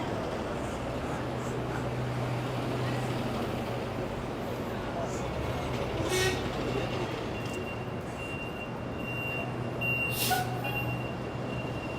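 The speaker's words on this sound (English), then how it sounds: "it's the 6th train on 51st Street" A New York subway 6 train at 51st Street rumbles steadily, with a constant low drone, faint squeals and brief high hisses, as people talk quietly nearby.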